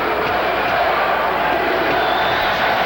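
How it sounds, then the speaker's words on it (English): Dense roar of a large ice hockey arena crowd cheering during a 1987 USSR versus USA Olympic team game, loud and sustained throughout, with faint talk mixed under it. "Let's just listen to the crowd. They're having fun."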